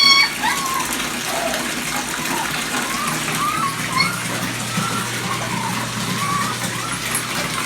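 Bathtub tap gushing steadily as water fills the tub for a dog's bath, a continuous loud rushing wash that runs the whole time with no clear break.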